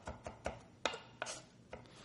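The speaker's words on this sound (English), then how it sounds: "Same type of chopping." A knife chops garlic on a cutting board in a series of about eight sharp, close knocks at an uneven, unhurried pace, with no talking over them.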